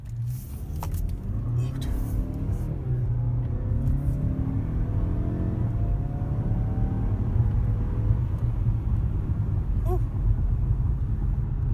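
A 2019 Mazda CX-5 Turbo GT Reserve with all-wheel drive accelerates hard from inside the cabin, a loud steady engine drone that climbs through the gears over heavy road rumble, with no talk.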